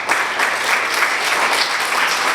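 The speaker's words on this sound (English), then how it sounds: "then appreciate that by a clap" An audience at a Nigerian Bar Association Eket branch legal education session breaks into steady, dense applause that carries on without pause throughout.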